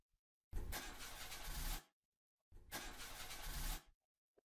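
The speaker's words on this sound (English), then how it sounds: "Hold on, I'll try the engine." A car engine in the horror game Mermaid Swamp is cranked twice, each roughly 1.3-second grinding starter whir cutting off without catching, with silence between the attempts.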